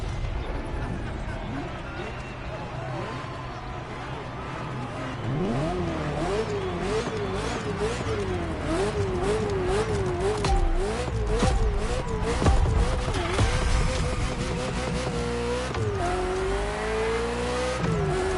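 A Ferrari F40 supercar engine in The Crew Motorfest, revving hard with rising and falling pitch sweeps as it accelerates and shifts gears, loud and close, with rhythmic wavering throttle blips and tire noise underneath.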